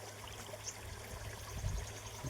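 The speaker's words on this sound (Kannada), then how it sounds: "ಬರಕತ್ತಿದೆ ನೀರು" Continuous gentle trickle of water running down a hillside outdoors, steady and fairly faint, with a low rumble of wind.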